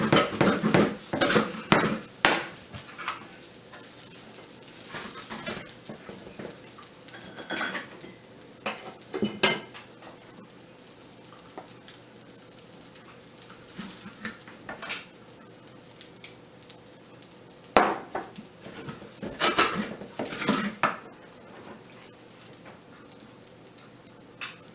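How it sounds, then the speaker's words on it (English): Fried rice with shrimp being scooped out of a pan, with repeated clinks and scrapes of a utensil against the metal, some sharp and close, spread irregularly over a steady low kitchen background. "I'm going to go ahead and take this rice out"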